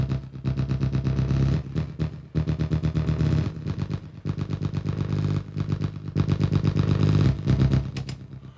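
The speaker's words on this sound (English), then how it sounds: "Now I've got my basic bass line sorted out" A synthesizer bass line playing in a music track, loud and pulsing in a rapid repeating rhythmic pattern with brief pauses between phrases, alone without voices.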